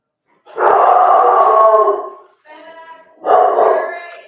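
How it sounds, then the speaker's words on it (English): Pet dogs at home howl loudly and close by in two long wavering bursts with a softer whine between them, with no talk. "Guess what? My dogs."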